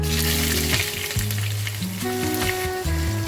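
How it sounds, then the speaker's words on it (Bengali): Chopped onions frying in hot oil give a loud, close, continuous sizzle, with steady humming tones running underneath and no talk. "তেলটা গরম হয়ে গেছে, এবার আমি এর মধ্যে কেটে রাখা পেঁয়াজগুলোকে দিয়ে দেবো।"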